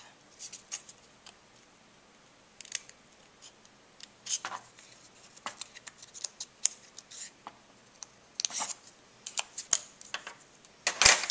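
Scissors snipping paper squares for a mini album, a quiet series of short crisp cuts in irregular bursts, close by and faint, with soft handling rustles between.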